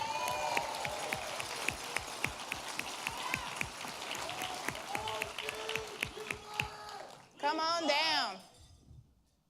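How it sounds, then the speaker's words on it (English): Audience applause for an award winner from the 412th Operations Group at a quarterly awards ceremony, steady clapping from a crowd that ends in a short burst of speech at the close. "Give this outstanding airman another round of applause."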